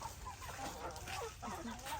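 Chickens cluck softly as they walk along at a rural home in Thailand, scattered low clucks over a constant outdoor background hiss, fairly faint and close.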